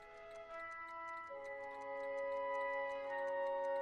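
Several clocks tick in a room in the Back to the Future video game, a soft, steady, regular ticking set against a faint sustained musical tone.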